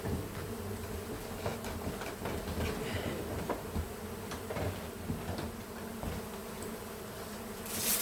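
A dense swarm of buzzing insects drones continuously, close and steady, with occasional individual buzzes rising above the hum.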